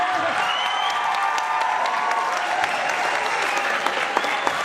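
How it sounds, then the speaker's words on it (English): Theater audience claps loudly and steadily after a school production of The Little Mermaid, with a few cheers and crowd murmurs mixed into the sustained applause. "Let's give them one more round of applause"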